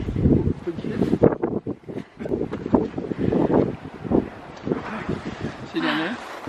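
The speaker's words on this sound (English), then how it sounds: "it's really windy" Strong wind gusts buffet the microphone at a hilltop church overlooking the coastal town of Piran, Slovenia, with people talking over the steady blustery rumble throughout.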